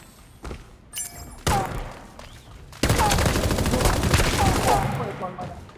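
Gunfire in the mecha battle game Super Mecha Champions: a few scattered thuds at first, then a dense, loud stretch of rapid overlapping shots and blasts that runs on steadily to the end.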